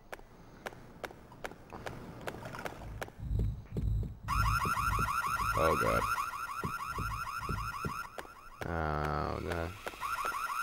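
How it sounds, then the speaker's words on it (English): Car alarm going off in a video game, a loud pulsing electronic warble repeating steadily over footsteps and other game noise, with a man briefly exclaiming in distress. "That alarm doesn't matter."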